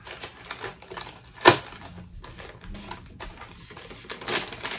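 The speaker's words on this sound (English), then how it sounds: "More crinkling." Advent calendar packaging being crinkled and handled, a series of close, dry rustles with one sharp crackle partway through and another burst near the end.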